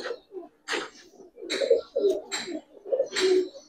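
Racer pigeons coo in a series of soft, throaty calls, close by and fairly loud, repeating in short rhythmic bursts with brief pauses between them and no other sounds.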